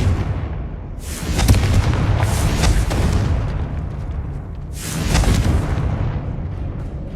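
A Confringo fire spell in Hogwarts Legacy bursts into two heavy, rumbling explosions a few seconds apart, each with a bright crackling blast over a deep low roar.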